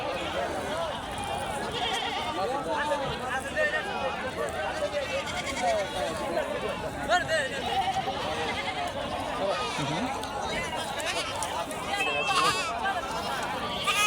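Goats bleat repeatedly amid a noisy crowd at a goat market in Sherpur, with constant overlapping voices and market chatter all around.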